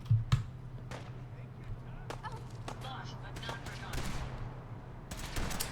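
Gunfire in the video game Fallout 4 crackles in quick, irregular bursts of sharp cracks and pops, several overlapping shots over a steady background hum.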